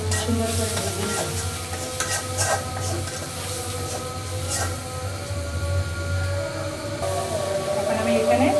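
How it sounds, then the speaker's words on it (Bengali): Green chillies, turmeric and chilli powder sizzle in a hot pan, a steady broadband frying hiss with scraping stir strokes throughout, fairly close and even in loudness with a low background hum. "তারপরে এটা সুন্দর করে ভেজে নেব"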